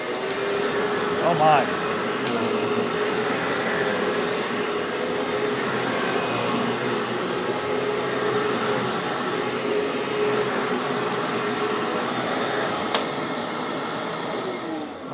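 A Royal PowerCast 9000 vacuum cleaner with a 2-inch hose runs steadily on carpet, a loud continuous motor whine and airflow roar throughout, with a brief spoken exclamation near the start.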